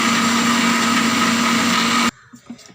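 An electric mixer grinder whirs loudly and steadily, crushing cooked chundakka with tamarind water, then switches off abruptly, leaving faint kitchen sounds.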